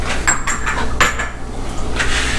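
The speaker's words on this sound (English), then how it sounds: "Mix this concoction up." A utensil clinks and scrapes against a bowl while crab ball ingredients with lemon juice and Worcestershire sauce are stirred together, giving a few close, bright knocks over a steady low hum.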